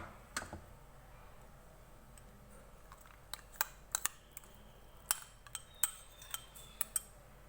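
Spoon stirring a yogurt and spice marinade into raw chicken in a bowl, giving sparse, faint metallic clicks and taps that come irregularly over a quiet background.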